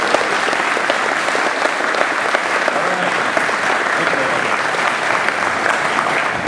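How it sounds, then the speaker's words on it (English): An audience at game project presentations claps and cheers in sustained, dense applause, loud and steady throughout with no pauses. "So give a round of applause for Green"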